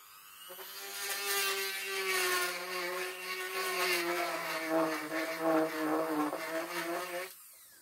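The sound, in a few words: Dremel rotary tool drilling holes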